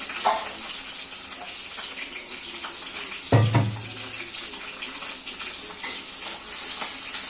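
Ground green chili fries in a pan with onion and cumin, a constant hissing sizzle with occasional stirring clatters and one heavier clunk partway through, close and steady throughout.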